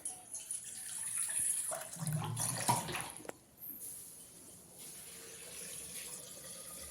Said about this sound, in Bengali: প্রথমে আমি ছোলাটা প্রেসার কুকারে সিদ্ধ বসিয়ে দেব। তো এখানে জল দিয়ে দেব।